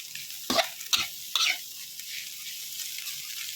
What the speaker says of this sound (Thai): จะผัดให้มีกลิ่นไหม้ นิดๆนะคะ